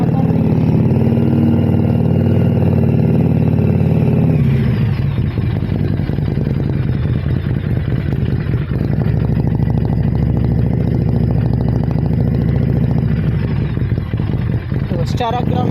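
A Harley-Davidson Street 500 cruiser motorcycle rumbles steadily as it rides along. The deep engine drone runs throughout, with a noticeable change in tone partway through, while someone talks over it.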